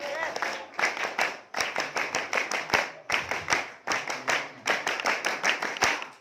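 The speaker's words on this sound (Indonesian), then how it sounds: "Tepuk pramuka." A group performs a scout clap at a scout campout, sharp hand claps in quick rhythmic bursts separated by brief pauses, close and loud, with voices mixed in among the claps.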